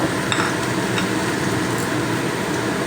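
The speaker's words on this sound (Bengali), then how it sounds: "এক টেবিল চামচ গোটা সাদা জিরে দিলাম আর দিয়ে দেবো কেটে রাখা তেজপাতাগুলো" Whole cumin seeds and cut bay leaves sizzling in hot oil with dried red chilli, a dense, loud, continuous crackling fry with faint scraping of a spoon in the pan.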